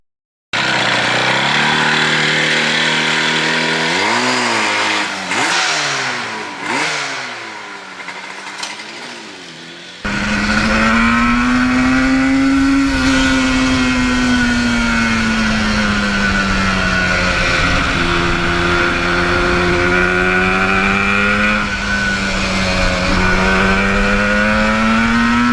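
Two-stroke engine of a restored 1977 Yamaha RD400 race motorcycle, loud and close, revving up and down in a rising and falling whine, then settling into a sustained, slowly wavering drone.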